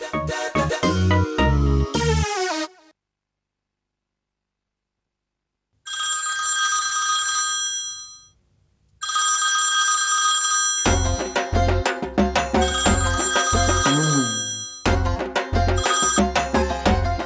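A telephone rings after a number is dialed, sounding as loud bursts of electronic ringing separated by pauses, with a quiet gap and a dip in the middle, then dense ringing mixed with drama-serial background music.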